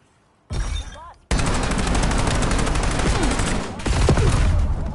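Rapid gunfire bursts from a PS5 shooter game, loud and sustained after a short opening burst, with a player's voice talking over the shots.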